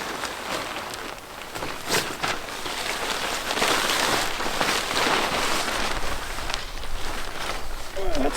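Steady rain patters on a tent at a campsite with a tent cot, a dense continuous hiss of drops against the fabric lasting throughout, fairly close and even, with a brief sharper tap near the end.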